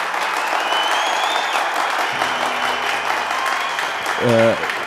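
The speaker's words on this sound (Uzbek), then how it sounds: "Shunga ustozlar, bizning programma gruppasi, mahirlar olqish beraylik." An audience applauds the program group at a cultural event, a dense, steady wash of clapping from many hands, loud and sustained throughout, with a voice and a brief tonal sound near the end.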